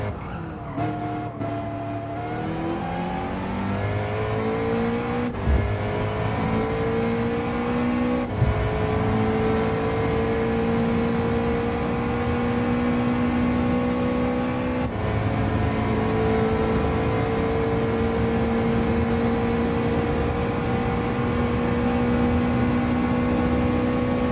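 Race car engine in a Watkins Glen racing video game, loud and steady, its pitch climbing through repeated upshifts with sharp gear-change breaks every few seconds, continuous and alone.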